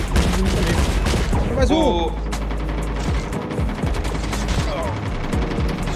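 Rapid gunfire from a Call of Duty Mobile match bursts loudly and continuously, with players shouting excitedly over the shooting.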